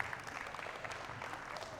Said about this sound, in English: Give them a round of applause to the boys and the girls.